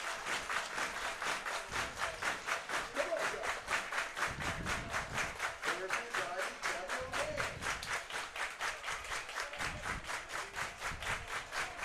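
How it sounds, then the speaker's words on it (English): A home crowd in Guelph claps rhythmically and steadily for the Royals at a baseball game against Hamilton. The sustained, evenly pulsing clapping fills the whole stretch, with a faint voice now and then underneath. "All of Guelph cheering on Nunez and the Royals"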